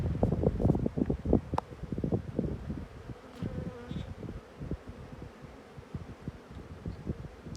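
Honeybees buzz steadily close by in an open hive, a dense droning hum with soft bumps and rustling handling noise throughout.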